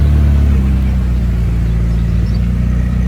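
A white McLaren 675LT coupe idles close by, its steady low engine rumble and exhaust drone continuous and loud, with a slight swell at the start.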